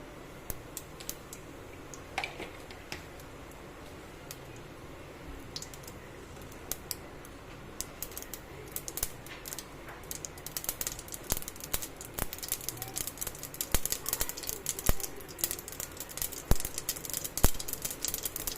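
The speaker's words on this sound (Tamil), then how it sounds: "எண்ணெய் சூடான உடனே கடுகு போட்டுக்கிறேன்." Mustard seeds crackle and pop in hot oil in a home kitchen while chana masala is prepared, the sharp spluttering growing denser and louder over the second half.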